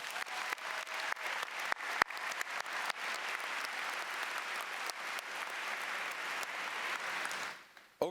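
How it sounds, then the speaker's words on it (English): At the 2019 James River High School graduation ceremony, the audience claps for staff and faculty, a steady, moderately distant round of applause lasting about seven seconds before stopping abruptly. "let's give a big round of applause to show appreciation for our wonderful staff and faculty"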